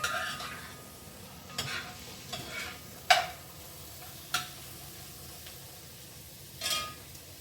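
Weenies with parsley and Italian seasoning brown in a pan with a faint, steady sizzle, broken by five or six sharp clinks and scrapes of a utensil against the pan, close by.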